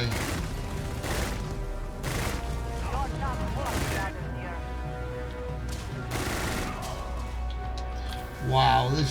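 Rapid bursts of modded rifle fire in the sci-fi game Starfield, loud close volleys repeating every second or two, with a voice talking over much of the shooting.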